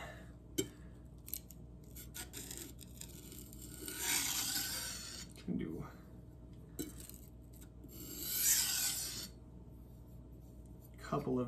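Light deburring strokes of a Victorinox knife edge across a diamond sharpening stone, a few soft rasping scrapes spaced apart with small clicks between, close and quiet.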